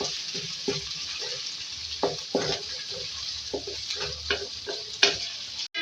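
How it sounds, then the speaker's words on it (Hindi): Ginger paste fries in a pan with a steady sizzle, punctuated by repeated spoon scrapes and stirring knocks against the metal, close and fairly loud. "अब इसके अंदर जो है अदरक का पेस्ट ऐड करूँगी, 1 खाने का चमचा। इसको डाल के इसको फ्राई करेंगे"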